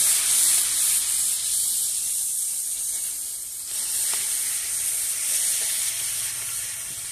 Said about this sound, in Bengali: ভালো করে মশলাগুলো নেড়ে চেড়ে কষিয়ে নেব।